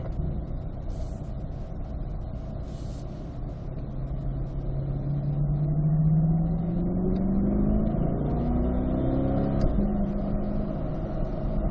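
A C8 Corvette drives on a race track, its engine droning steadily and rising in pitch as it accelerates through the gears, heard from inside the car with a continuous rumble.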